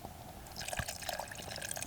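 A small splash of liquid is poured into a pan of lentils and sausage fat, a quiet trickle and drip close up in a quiet kitchen.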